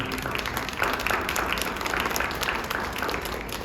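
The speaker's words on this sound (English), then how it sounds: "Can we give everybody a big round of applause, Dave?" At a school PTO general meeting, an audience gives a round of applause, with steady, moderately loud clapping from a roomful of parents and staff filling the whole stretch.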